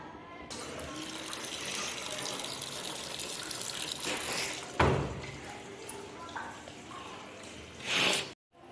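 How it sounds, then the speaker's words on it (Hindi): Washing machine drawing in water for its rinse cycle, a continuous faint rushing and trickling of water with a louder splash midway and a brief surge near the end. "हम रिंस करेंगे ठीक है, 6 मिनट के लिए पानी ले लेगा अच्छी तरीके से"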